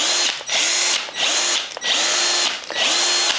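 A Ryobi cordless drill whirs in repeated bursts, spinning up, holding a steady whine, then briefly stopping, about four times, loud and close.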